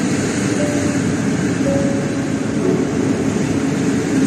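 A steady, loud electric hum and rumble of a Polish EP07 electric locomotive hauling a TLK train pulling away, with faint whining tones drifting in and out.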